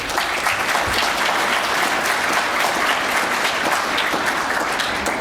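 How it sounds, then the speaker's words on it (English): An audience at a poverty assembly applauds its chair, Jim McCormick, with dense, steady clapping that fills the room and keeps going without a break. "a round of applause for Jim McCormick"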